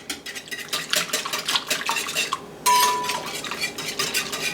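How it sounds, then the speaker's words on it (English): A whisk beats gluten-free, dairy-free onion ring batter in a bowl, producing a quick rhythmic metallic clatter against the sides, steady and close, with a brief sharper clink partway through. "going to take our whisk"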